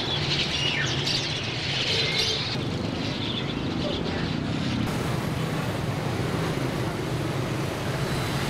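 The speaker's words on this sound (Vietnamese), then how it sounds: "Những lồng chim đã đem đến cho mùa hè một âm thanh khác, bức bối và ngột ngạt hơn." Caged birds chirping in a city in summer, with scattered bright tweets and fluttering in the first half over a constant bed of traffic noise that carries on alone after the birds fade.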